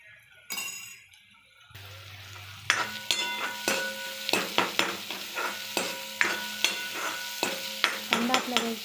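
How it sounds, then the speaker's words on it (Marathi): Ginger garlic paste sautéing with browned onions for pav bhaji, a steady sizzle broken by a series of sharp, regular spoon scrapes and clinks against the pan, close and fairly loud. "त्यात आता अद्रक लसूणची पेस्ट टाकणार आहे आपण। चांगली परतून घ्यायची।"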